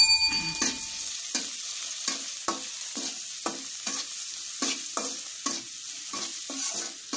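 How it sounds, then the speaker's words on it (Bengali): Pangas fish cooks with cucumber in a pan, a steady loud sizzle of frying with regular scraping stirs of a spatula roughly every half second. "আমি আজকে রান্না করছি শসা দিয়ে পাঙ্গাস মাছ।"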